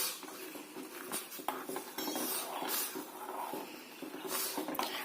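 A spoon stirs brew coffee powder into hot milk in a pot, giving repeated scraping and clinking of metal against the vessel in an uneven, continuous rhythm, close and clear with no talk.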